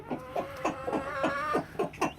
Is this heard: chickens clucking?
yes